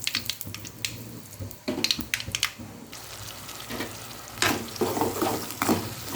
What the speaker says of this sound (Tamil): இப்போ கடுகு உளுத்தம் போட்டிருக்கேன், கருவேப்பிலை போட்டுக்கலாம்